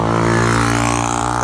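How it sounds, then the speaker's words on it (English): A motorbike engine drones loudly and steadily nearby on a road in the Gambia, its pitch shifting slightly as it goes by. "that's the sound of the motorbike"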